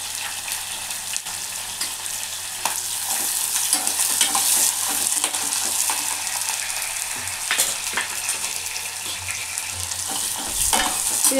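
Chopped onion fries in a pan with chili powder, turmeric, salt, curry leaves and coriander until brown. A continuous hiss of sizzling oil runs throughout with occasional scraping stirs, close and steady, with no talking.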